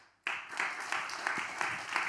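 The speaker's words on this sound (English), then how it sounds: "Another round of applause." A short round of audience applause closing a music promotion panel, starting abruptly and continuing as a dense, even patter of many hands clapping at moderate distance.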